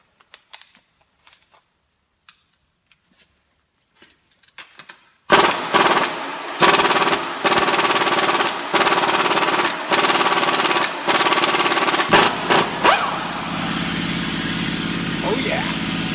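A powerful impact wrench hammers loose a bolt on a Honda 3.5L engine during timing belt and water pump work, with loud rattling bursts close up after a few soft clicks. The wrench breaks off into a steady whir as the bolt spins free.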